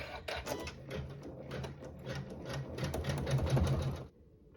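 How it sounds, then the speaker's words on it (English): An embroidery machine sews a satin stitch through quilt fabric, a fast close rattling needle run that holds steady for about four seconds and then stops abruptly. "we'll sew satin stitch over fabric 4"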